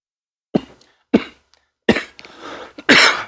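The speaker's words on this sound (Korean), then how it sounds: "지금도 제가 기침을 하고 있지만 목 감기가 아직 감기 기운이 남아 있어가지고" Several harsh coughs from a person with a sore throat and lingering cold, coming in separate bursts close to the microphone, the last one longer and rougher.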